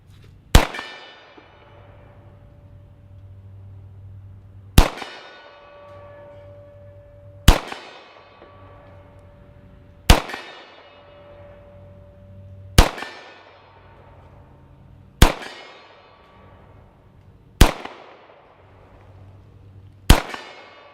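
Seven single shots from a Beretta 92S pistol, fired one-handed at 50 yards, each ringing out as a sharp crack with a metallic clang, spaced a few seconds apart in a slow, even cadence.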